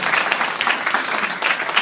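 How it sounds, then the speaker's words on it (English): Brief burst of audience clapping in a hall for an assistant fire chief, loud and fairly close, with uneven claps that swell and dip over a couple of seconds. "Round of applause for Timmy."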